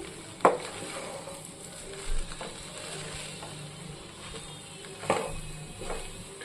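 A spoon stirs potato rice with coriander leaves and curry leaves in a pan. There are two distinct scraping clinks and soft scraping in between, quiet and close, with no voices.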